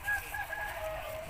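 An aseel rooster crows once, close and clear, a short rising call standing alone.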